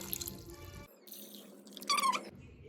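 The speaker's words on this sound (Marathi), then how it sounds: "2 तांबे पाणी टाकायचं" Water poured from a vessel into a pot of freshly washed potatoes being prepared for homemade French fries, a close splashing and trickling that starts and stops in bursts, with no talking.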